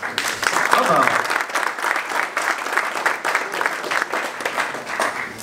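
Sustained audience applause fills a conference hall at a tech talks event, dense clapping throughout with a brief voice over it at the start.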